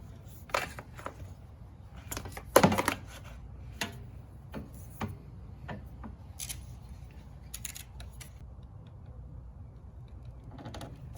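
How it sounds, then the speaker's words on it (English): A fuel hose on a generator's gas tank is snipped with a cutter, giving a sharp crunching snip near the middle among several light clicks and ticks of tools and clamps, close and fairly quiet, with no one speaking. "Go ahead and cut the hose."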